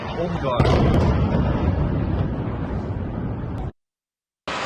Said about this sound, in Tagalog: dumagundong ang pagsabog ng drone sa isang luxury hotel